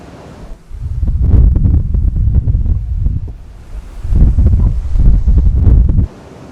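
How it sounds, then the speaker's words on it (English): Muffled low wind rumble buffets a Tascam Portacapture X8 microphone shielded by a Bubblebee Windkiller SE windshield in gusts, two heavy bursts separated by a quieter lull, with no voices. "it's still quite windy, but it's sounding a lot better now"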